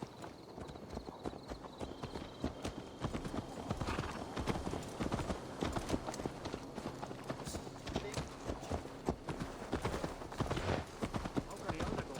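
Rapid clip-clop of horse hooves trots steadily along in Assassin's Creed Valhalla, faint and mixed with background voices talking and game-like ambience.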